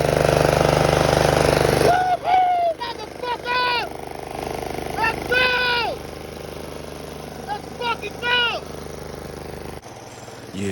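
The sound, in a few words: Snapper riding lawnmower Briggs & Stratton engine running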